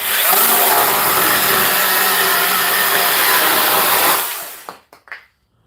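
A DEWALT 12-inch electric chainsaw runs with a loud, steady high-pitched whine for about four seconds, then winds down, followed by a few brief clicks and handling noises.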